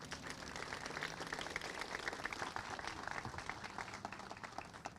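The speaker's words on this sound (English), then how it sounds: "I want to give all these people a round of applause" Outdoor crowd at a bank ribbon-cutting ceremony gives a round of applause for the helpers, steady moderate clapping heard somewhat distant and faint.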